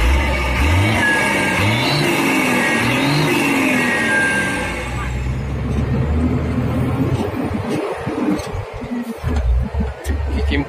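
A Hino truck engine revs hard during a hill-climb test in fourth gear, a loud rising roar that holds steady and then drops into rough, uneven rumbling, close by.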